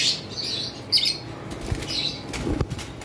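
A ringneck parrot flaps its wings in several quick, close bursts, with faint chirps in between and no voices.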